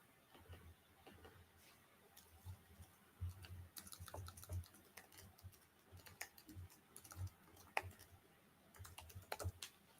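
Quiet, irregular clicking of fingers typing on a computer keyboard, soft keystrokes coming in short bursts with brief pauses and a faint room hum underneath.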